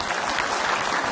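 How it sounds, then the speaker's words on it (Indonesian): Audience applause at an Islamic religious gathering, a dense burst of many hands clapping together, loud and steady throughout with no speech over it. "Mana tepuk tangannya?"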